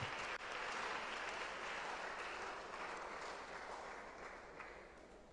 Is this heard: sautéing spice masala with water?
no